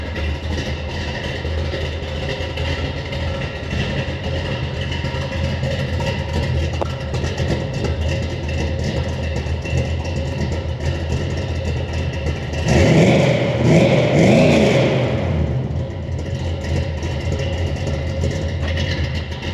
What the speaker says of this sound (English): Look how smooth that engine is